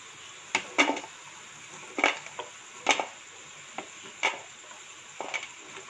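Moon biscuit snacks deep frying in hot oil, with a steady soft sizzle broken by several sharp clinks and scrapes of a utensil against the pan, close and fairly quiet, no voices.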